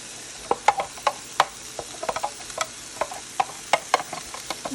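Sliced cabbage sautéing in a stainless skillet, with a faint sizzle under sharp, irregular scrapes and clinks of stirring, close and alone without talk.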